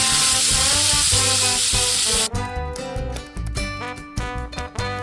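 Bay leaves dropped into hot oil in a kadai give a loud, steady sizzling hiss for about two seconds over background music, then cut off abruptly.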